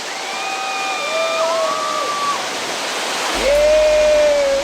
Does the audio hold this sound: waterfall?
yes